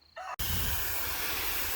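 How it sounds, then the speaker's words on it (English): A rooster on a homestead crows loudly once, a brief strained call, followed by a steady broadband hiss of background noise. "Sorry for the roosters."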